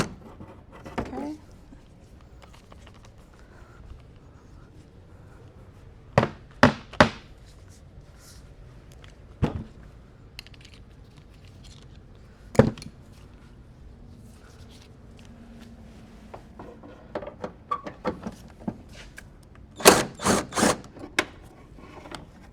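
Ratchet working rusted wheel nuts on a BMW E46 M3 in a garage: sparse, sharp metallic clicks and knocks in scattered bursts, with a denser cluster of clatter near the end over a quiet background.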